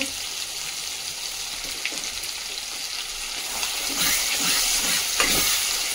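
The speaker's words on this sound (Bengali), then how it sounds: "এখন দিয়ে দেব জিরে ও লঙ্কা বাটা দিয়ে দেব" Cumin and chili paste frying with ginger in a pan for village-style mutton curry: a steady close sizzle that swells louder near the end, with a few scrapes of stirring.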